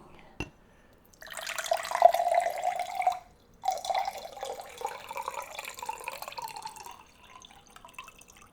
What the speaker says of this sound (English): maybe I'll actually pour some of it onto the glass over here